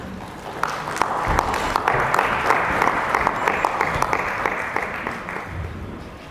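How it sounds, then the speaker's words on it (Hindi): A crowd at an awards ceremony in Agra claps steadily for several seconds, dense applause that swells and holds before tapering slightly at the end. "एक जोरदार तालियां हो जाए"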